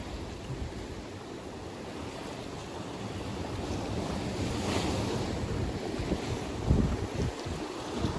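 Surf rolls in at night on a shoreline while fishing for bass, a continuous washing roar with swelling surges and some wind buffeting on the microphone, no voices.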